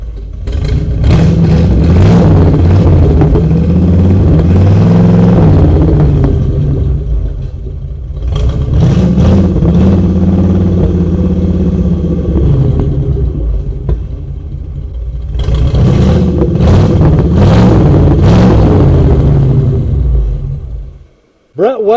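A Hemi car engine rumbles steadily while being unloaded after the Syracuse Nationals, swelling in three loud revving bursts with lulls between, continuous and close.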